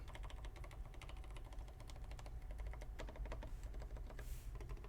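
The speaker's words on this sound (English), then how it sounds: "Like it's actually a pretty decent sounding keyboard." Rapid, continuous keystrokes clatter on a mechanical keyboard, fairly quiet and close, with uneven clicky rhythm.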